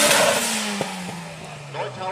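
A VW Golf Mk2 with a 1.8-litre 16-valve KR engine and a home-built turbocharger runs loud and near with a steady, slowly falling drone. Brief ticks break the tone, and a rising note comes near the end.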